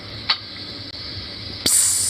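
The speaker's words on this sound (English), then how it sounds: "Psst, you hear that? Sizzle, sizzle." A sharp sizzling hiss, steady and close, with a brief burst near the start and a louder, brighter surge in the final half second.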